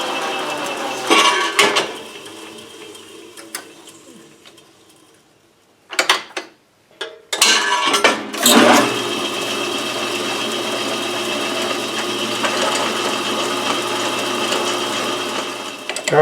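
A 1931 South Bend 11-inch lathe runs steadily while reaming a larger bore in a shaft, with a continuous mechanical whir and rattle that drops out briefly in the middle before resuming loud and even.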